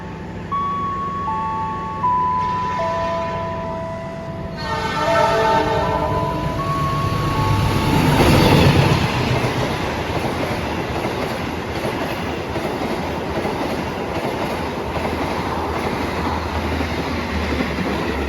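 Argo Bromo Anggrek express train racing through a station on track 1 in Indonesia: horn blasts first, then a rising roar as it passes close, followed by long steady clattering of carriages rushing by.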